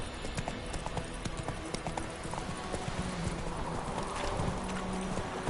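Roach the horse gallops in The Witcher 3, a quick, steady clip-clop of hooves running continuously under a busy game soundscape.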